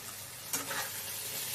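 Ground chili, cumin and turmeric fry in a pan with a steady sizzle, stirred with a brief scrape partway through, close and fairly quiet without talk.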